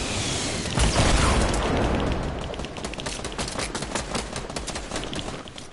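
Rapid bursts of gunfire and booming blasts from a Fortnite match, loud and continuous with dense overlapping shots throughout.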